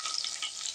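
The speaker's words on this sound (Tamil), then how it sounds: "நம்ம குழம்பு தாளிச்சிக்கலாம்." Onion, garlic, green chilli, tomato and curry leaves sizzle in hot oil for a kuzhambu tempering while being stirred: a steady, close, bright crackling hiss that stays even throughout the short moment.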